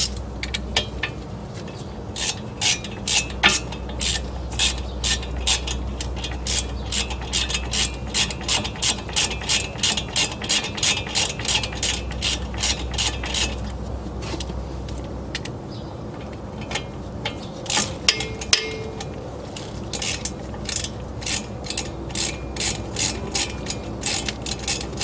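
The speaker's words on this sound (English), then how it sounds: "you go ahead and screw the T45 screws back in" A hand ratchet clicks in rapid bursts while driving T45 Torx screws back into the front brake caliper bracket of a 2013-2020 Ford Fusion, with short pauses between runs of sharp, close, rhythmic ratcheting.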